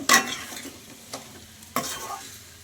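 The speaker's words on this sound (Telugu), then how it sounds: "బాగా వేగిన దాకా ఫ్రై చేసుకోవాలి మనం." Garlic chicken sizzles in a pan with raw garlic, stirred a few times, giving soft scraping bursts over a low frying hiss; quiet and close, with no speech.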